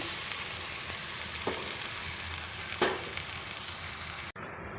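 A ground spice paste for a pirandai tamarind curry sizzles loudly and steadily in a hot pan, with a bright frying hiss and a few faint stirring scrapes, then cuts off abruptly just before the end.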